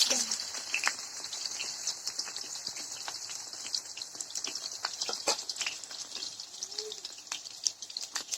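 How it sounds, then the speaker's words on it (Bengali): Eggplant pieces frying in hot oil in a wok, a steady faint crackle and sizzle with scattered small pops, close but quiet. "তো এরপর আমি গরম তেলের মধ্যে বেগুনগুলো দিয়ে"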